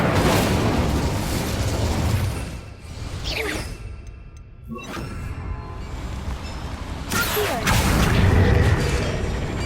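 Incendio fire spell cast in the video game Hogwarts Legacy: roaring, whooshing bursts of flame with booming impacts, loud and dense, swelling twice around a quieter gap.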